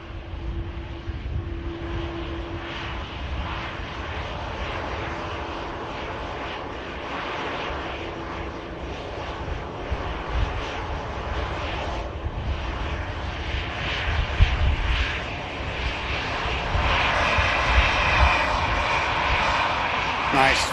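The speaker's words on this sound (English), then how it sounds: "here's the EasyJet that just touched down without issue" An EasyJet airliner lands at Manchester Airport, its engines producing a sustained, roaring rumble that holds steady throughout and swells louder toward the end, with a person talking over the noise.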